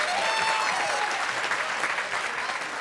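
Audience applause on a Taiwanese stage competition show, a dense, steady wash of clapping throughout, with a faint sustained tone briefly audible near the start.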